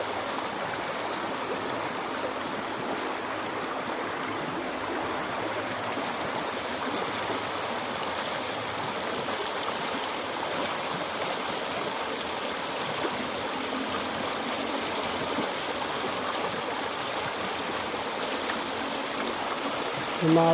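Steady, broadband rush of a fast-flowing river swollen by Typhoon Kristine, continuous and fairly loud throughout with no voices.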